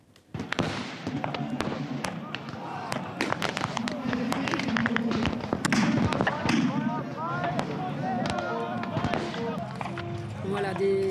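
Cannon and musket fire at the 200th anniversary reenactment of the Battle of Waterloo, a dense crackle of sharp reports and booming thuds over constant crowd and field noise, with people talking throughout.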